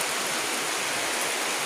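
Rain falls on garden plants and flowering shrubs, making an even, close hiss of many drops. The sound holds steady for the full short stretch.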